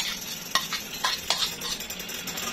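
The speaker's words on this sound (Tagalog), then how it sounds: "Haluin ng mabuti." A spoon stirs mung bean stew with bottle gourd in a pot, giving three or four distinct scraping clinks over a soft bubbling background.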